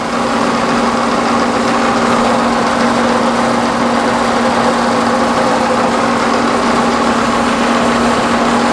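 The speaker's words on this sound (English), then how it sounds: "I'm just hand cranking it." A hand-cranked engine runs at a steady idle, its even drone and constant hum holding close and loud for the whole stretch with no talking.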